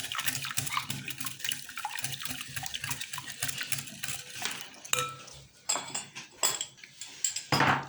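A spoon scrapes and clinks against a bowl as it stirs a thick Kayseri fenugreek paste, a busy close run of rhythmic scraping and tapping with a few louder knocks, no voices.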